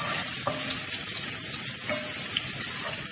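Two cloves of garlic dropped into hot oil for mini pizzas give a steady, bright sizzle, close and continuous, with a few faint clinks of stirring.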